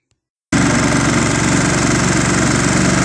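A Ferris ProCut 61 lawn mower engine starts after a brief silence and settles into a loud, steady idle with a rhythmic mechanical throb and vibration, close up and alone.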